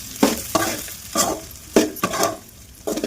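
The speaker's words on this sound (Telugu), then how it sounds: "రైస్ వేసుకొని కలుపుకోవాలి." Cooked rice being stirred into pulihora in a pan, with a spoon scraping and knocking against the metal in uneven strokes over a light sizzle.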